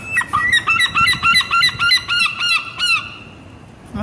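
Seagulls beside the Molly Malone statue in Dublin give a loud, close run of repeated honking squawks in quick rhythmic bursts for about three seconds, then fall quiet.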